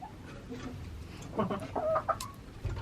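A mixed flock of old and newly added chickens clucks and squawks in short agitated bursts nearby, fairly faint, with faint farmyard background.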